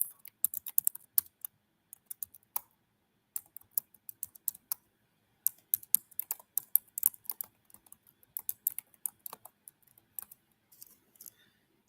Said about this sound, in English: Let me type that in there for you guys right quick